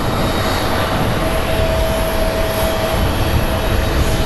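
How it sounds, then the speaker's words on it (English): A 22-year-old United Boeing 737-800 arriving from Denver at Phoenix Sky Harbor, heard as a loud, steady, broadband jet engine roar that stays constant throughout, with no talk. "So up next we're going to get United 2249 coming in from Denver. It's a 22-year-old Boeing"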